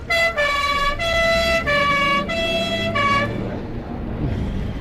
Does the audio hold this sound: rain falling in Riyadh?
no